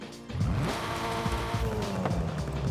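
Abarth 124 Spider in Forza Horizon 5 with stock quad exhaust revving and shifting with a throaty note, tires squealing over it, fairly steady and close, no voices.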